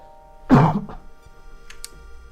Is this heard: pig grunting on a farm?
no